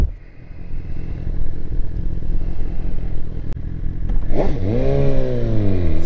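A BMW S1000RR sport bike engine drones steadily at close range, then rises sharply in a sweeping rev toward full RPM near the end, its pitch climbing and holding.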